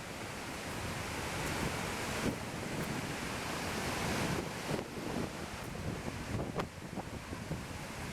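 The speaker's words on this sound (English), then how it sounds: "Feel that power of the waterfall." Skogafoss waterfall in Iceland roars as a steady, loud wash of broadband water noise close by, with gusty wind buffeting the microphone throughout and no voices.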